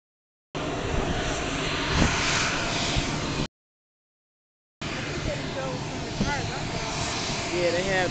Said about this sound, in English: And there's the jet.